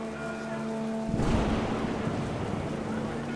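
Heavy rain pours down in the video game What Remains of Edith Finch, a dense steady wash that swells in suddenly after a quieter opening with a low tone, then holds loud and constant to the end.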